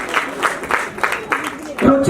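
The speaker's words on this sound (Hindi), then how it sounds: "बजा दो तालियां" Audience applause at an alumni meet stage event, a ragged run of clapping bursts at a steady medium level with a voice speaking over it and a louder swell near the end.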